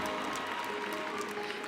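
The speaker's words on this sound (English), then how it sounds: "That deserves a round of applause." Audience applause at a live beauty pageant show, a steady broadband patter of many hands clapping throughout, fairly distant and even, swelling slightly at the very end.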